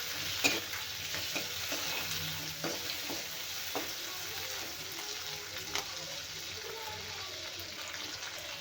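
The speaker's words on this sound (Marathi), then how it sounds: "टोमॅटो पण मी भाजून घेणार आहे तेलामध्ये छान" Tomatoes fry in oil for a pickle in a pan nearby, giving a steady, even sizzle with occasional stirring scrapes and light clinks, and no talk.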